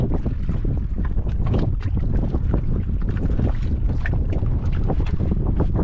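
Strong wind buffets the microphone in loud, continuous gusty rumbles near the coast, filling the whole stretch without talk.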